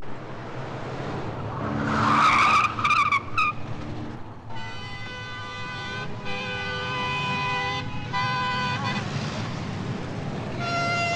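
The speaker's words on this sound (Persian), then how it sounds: "گفتم ترمز کن" A car brakes hard with a loud, piercing tire skid that rises sharply for a couple of seconds, followed by sustained tonal squealing or horn-like notes continuing behind it.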